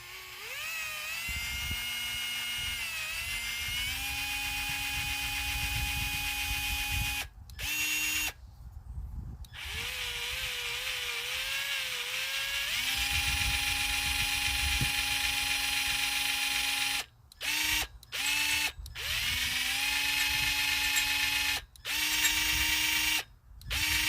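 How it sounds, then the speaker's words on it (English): Power drill boring a vent hole through a metal tin with a dull bit, a steady whining grind that bogs and shifts pitch, pausing briefly several times, close and fairly loud. "I did have to pick the dullest drill bit I got."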